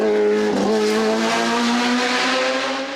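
A Martini MK69 racing car engine roars loudly and steadily nearby at a hill climb, its pitch dipping briefly then climbing smoothly as it accelerates.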